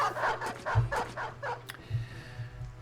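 Dogs barking in the Battle Brothers video game, a series of about five rapid yelps and barks over roughly a second and a half, then a low rumbling game background continuing beneath.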